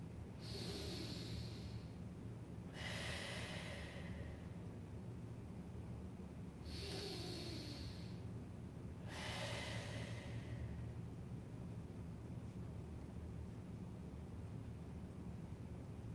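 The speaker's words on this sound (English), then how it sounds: "Breathing in and out through the nose." Deep breathing in and out through the nose during a guided yoga and breathwork session, with two slow inhale-exhale cycles heard close and soft over a low steady background hum.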